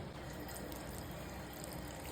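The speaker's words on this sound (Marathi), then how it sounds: "दोन कप पाणी ओतलं आहे मी" Two cups of water pour steadily into a pressure cooker holding peeled, soaked ingredients for a Maharashtrian meal, a continuous close splashing rush with no talk.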